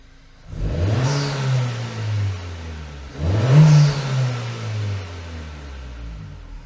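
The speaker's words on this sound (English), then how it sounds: "You can hear actually the turbo here." Turbo and engine of a 2025 Honda Civic Si with a PRL high-volume intake, two rising revs with a whooshing spool, heard close with no voices.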